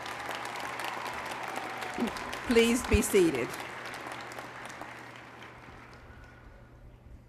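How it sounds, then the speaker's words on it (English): A graduation audience applauds at a fall commencement, a steady wash of many hands clapping that slowly fades, while a voice speaks briefly over it. "Please join me in recognizing the outstanding achievements of these students with a round of applause."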